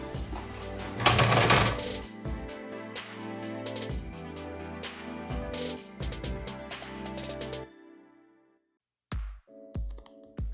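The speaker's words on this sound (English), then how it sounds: "I want to make sure that my double needle is sewing right on top of my serging" Sewing machine running a double needle over serged fabric edges, a steady close mechanical whir with rapid stitching clatter that stops near the end, followed by a few short bursts.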